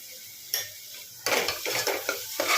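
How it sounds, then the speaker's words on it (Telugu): Masala for a cauliflower potato kurma frying in a pan, with a brief sizzle, then louder scraping and stirring strokes against the metal in quick succession, close and alone. "చూడండి, ఫ్రై అవుతుంది కదా."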